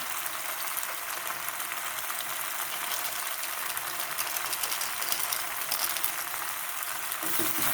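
Vegetable pasta stirred with Maggi masala in a pan at home, giving a steady, close sizzle and frying hiss with light scraping throughout, no talking.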